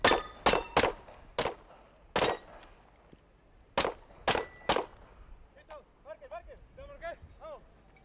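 Gunshots ringing off metal targets at a UAE SWAT shooting challenge: about ten sharp cracks with metallic clangs, grouped in quick bunches, followed by faint distant chatter.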